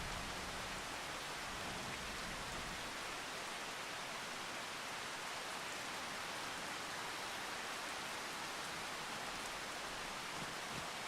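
Steady, dense rain falls in Farming Simulator 25, a loud, even hiss of drops hitting the ground that continues unbroken, with no talking.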